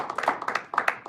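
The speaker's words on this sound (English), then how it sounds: "please applause to new members." Brief scattered clapping from a small club audience welcoming new members at a meeting, uneven claps close by, lasting about a second.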